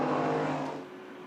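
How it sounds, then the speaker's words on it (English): A race car during qualifying for the 4 Hours of Spa-Francorchamps, running down the Kemmel Straight toward Les Combes: a loud, sustained engine whine that fades as the car moves away, heard alone. "Deco engineering car emerges from the gloom down the Kemmel Straight into Les Combes"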